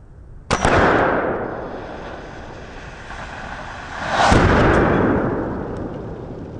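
A .50 caliber primer fired outdoors gives one sharp, loud crack, followed by a windy, washing roar and then a second broad surge of noise a few seconds later, with no talking.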